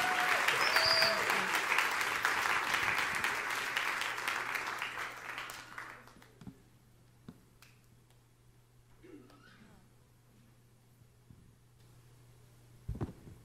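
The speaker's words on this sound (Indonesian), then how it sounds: "Beri lebih meriah tepuk tangan yang meriah untuk kemuliaan Raja kita" A church congregation claps loudly together, sustained applause that fades out after about six seconds, leaving quiet with a few scattered claps and a low hum.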